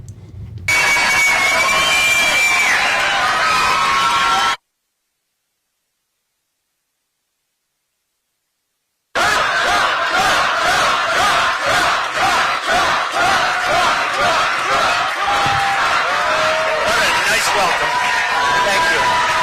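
A crowd at a Trump event held in a Black church cheers and roars loudly. The din breaks off into several seconds of dead silence, then returns as a pulsing, chant-like cheer.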